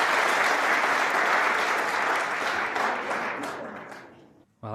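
A snooker crowd applauds a 143 total clearance, with dense sustained clapping close and loud, fading gradually before a voice begins right at the end.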